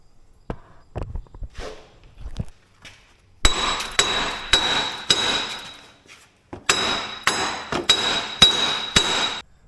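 Rusted bolts on a 1999 Jeep Cherokee being hammered, sharp metallic blows ringing out in quick bursts of several strikes, a few scattered knocks first, then two dense runs of loud clanging, with no talking.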